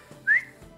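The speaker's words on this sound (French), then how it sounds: "Le mec me siffle." A man gives one short, clear whistle with a rising pitch, close and isolated against a quiet background.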